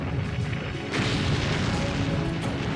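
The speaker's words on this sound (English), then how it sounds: "The British battleships open fire." British battleships fire their heavy naval guns, a loud sustained roar of booming blasts that swells partway through, heard alone without talk.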